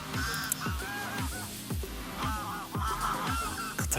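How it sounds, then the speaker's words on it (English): Noisy seabirds honking and cawing by the sea, a dense, continuous chorus of repeated calls, close and loud with overlapping cries throughout. "those birds are noisy"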